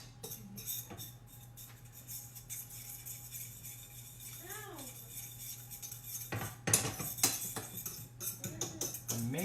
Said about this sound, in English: Now I'm going to start stirring. So I want this flour to be fully incorporated with the butter